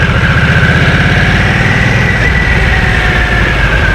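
A Harley-Davidson Nightster motorcycle engine runs in sport mode in second gear, a steady, loud, throbbing low rumble with a faint whine above it, continuous throughout with no speech.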